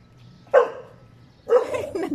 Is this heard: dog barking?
yes